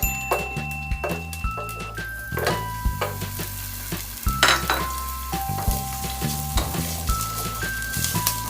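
Garlic and ginger sizzle in a tablespoon of oil in a kawali over medium heat, cooking for Filipino-style three cup chicken: a steady, close hiss with a few soft utensil clinks and a faint tonal backing underneath.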